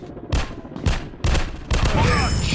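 Bursts of automatic gunfire from a first-person shooter game, Counter Terrorist FPS, come in three quick loud volleys followed by continuous firing, close and punchy, with a voice faintly underneath.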